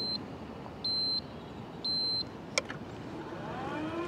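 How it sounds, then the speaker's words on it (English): A motorized shopping cart horn gives three evenly spaced electronic beeps, then a sharp click follows as faint road noise rises in the background. "I'm gonna start it off by using the good old horn. It's gonna be three beeps to go,"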